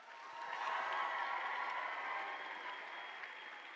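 A large audience at a Bands of America summer band camp opening session claps steadily and continuously, a dense, sustained wash of applause at moderate distance with no speech.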